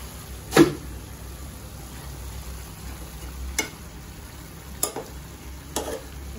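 Vegetables hiss and sizzle softly in a frying pan, broken by a few scraping stir strokes of a utensil, close and moderately quiet with no voices.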